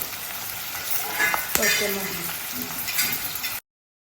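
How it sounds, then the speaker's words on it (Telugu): Onions frying in a pan on the stove, a steady close sizzle with a brief sharp clatter partway through, alone without talk. "ఈ ఉల్లిగడ్డలు బ్రౌనిష్ వచ్చేంత వరకు మనం స్టవ్ మీదనే ఉంచుకోవాలి."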